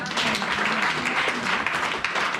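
A church congregation applauding during a sermon, a dense, loud, continuous wash of clapping from a crowd filling the whole moment, with a few voices mixed in.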